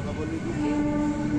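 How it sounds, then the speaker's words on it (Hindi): A Kolkata local train rumbles steadily with a sustained horn tone over the wheel noise, loud and close, heard from on board or beside the track. "चलो ये है कोलकाता का लोकल ट्रेन,"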